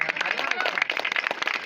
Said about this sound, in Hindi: तो तालियों से उनकी स्वागत करें